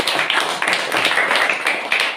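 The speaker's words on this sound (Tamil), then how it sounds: "First sister கைத்தட்டுங்க." An audience at a Saint Lourdes Mother flag-hoisting church festival claps for a sister, a short burst of crowd clapping in quick repeated rounds, moderately loud and close.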